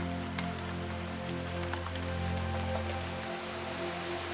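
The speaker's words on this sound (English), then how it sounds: "This constant rain is why such dense rainforest flourishes here." Steady rain falls through dense Daintree rainforest, a continuous even hiss of drops with scattered brighter patters and a low constant background, no voices.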